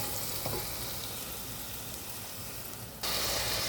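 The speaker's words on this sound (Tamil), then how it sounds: "வெங்காயம் பூண்டை போட்டு வதக்குறேன்." Onion and garlic sauté in a pan with a dense, even sizzle and stirring close by, which jumps suddenly louder near the end, with no talking.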